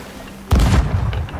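Cannon fire in the pirate game Sea of Thieves: a single loud, close boom with a sharp onset and a rumbling tail that lingers after the shot.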